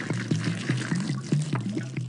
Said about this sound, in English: Tap the glass to pour juice on Fluff.